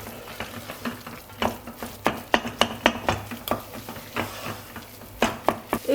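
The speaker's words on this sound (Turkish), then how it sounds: "Şöyle 10-15 saniye unla birlikte kavuracağım." Flour being stirred and toasted in a pot for a milk-based soup, a series of soft scraping and tapping spoon strokes in an irregular rhythm against the pot, close and moderately quiet.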